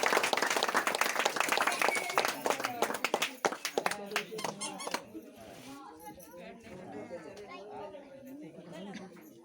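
A crowd at a small lockdown wedding claps in a burst of close, uneven applause that tapers off after a few seconds into chatter and talking voices.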